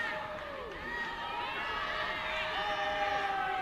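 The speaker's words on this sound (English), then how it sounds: "Crowd urging her forward." Sideline crowd at a women's premiership rugby union match, Manurewa Marlins against Mount Albert Lionesses, keeps up a steady roar of cheering and urging throughout. A match commentator talks over the crowd noise.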